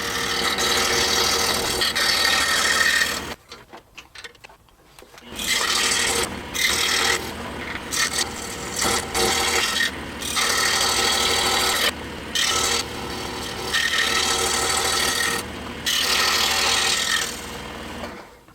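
Scroll saw fitted with a number 7 blade cutting the wooden core piece for a toy skid steer, a steady loud rasping buzz that runs on and off, with a short pause near the start.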